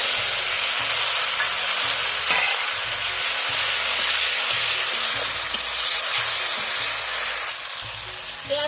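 Chopped tomato frying in hot oil in a pan, a loud continuous sizzle with stirring scrapes, close and steady, no talking.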